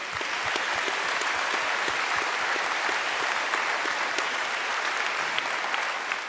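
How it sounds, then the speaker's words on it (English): A crowd in a gym at a high school commencement claps steadily and thickly, a constant wash of applause with individual sharp claps standing out, no pause throughout. "So I want to just clap for our community."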